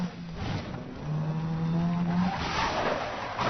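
Car sliding through a handbrake skid in Need For Speed Most Wanted (2012), tires squealing in a long whine over a racing engine, moderately loud and alone with no talk.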